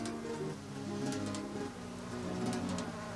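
An insect forages on flowers with a continuous close buzzing drone, steady and moderately loud, with no speech.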